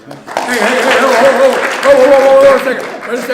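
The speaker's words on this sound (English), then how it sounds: "We ain't here for no applause" A university campus audience applauds in a hall, a broad wash of clapping and crowd noise rising and holding steady, with voices shouting over it.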